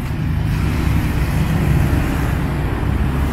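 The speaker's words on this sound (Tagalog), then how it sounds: "Traffic. Grabe ang traffic." Steady road traffic in Thailand, a dense low rumble of cars, trucks and buses idling and crawling nearby, continuous and fairly loud with no talk.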